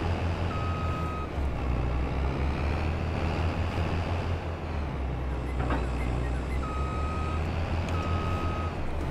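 A farm vehicle in Farming Simulator 22's Hills of Tuscany backs up, its reversing alarm sounding in short beeps: one early, then two close together near the end. The beeps sit over a continuous loud engine drone and a windy, rushing background.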